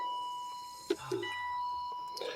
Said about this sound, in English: that's the modification for the chime I made